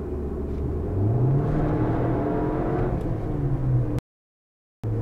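A tuned Audi A4 accelerates hard from about 35 mph, its engine note rising and swelling as it pulls through the revs, loud and close, then cuts off abruptly before a brief return.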